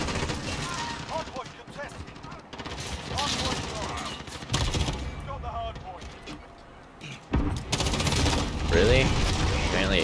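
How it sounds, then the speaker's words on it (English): Bursts of automatic gunfire from hip-firing a gun on the Shipment map in a first-person shooter, loud and repeated, mixed with other game noises and a voice talking over them. "Apparently hip fire is completely inaccurate on this gun."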